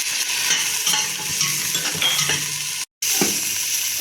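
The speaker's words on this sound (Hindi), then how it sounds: "अदरक लहसुन की पेस्ट को भी थोड़ा लाइट गोल्डन कलर आने तक भून लूँगी।" Ginger garlic paste frying in a pan for kabsa, a steady close sizzle with scraping stir strokes throughout and a brief break near the end; no talking.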